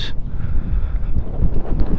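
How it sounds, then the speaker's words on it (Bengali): Wind gusts buffeting the microphone near a railway bridge at Tularampur, a steady low roar that fills the whole stretch with no other sound standing out. "বাতাস"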